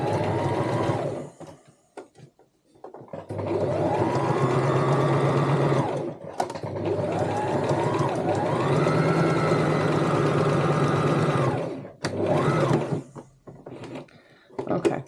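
A sewing machine hums through several sustained runs while stitching the lining fabric of a cosmetic bag, with short pauses between passes and a speaking voice alongside.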